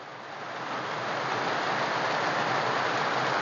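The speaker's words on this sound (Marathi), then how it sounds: "म्हणजे एवढा मोठा पाऊस पडायला लागलाय" Heavy rain pours down in a dense, continuous hiss that swells slightly at the start and then holds loud and steady, with no voices over it.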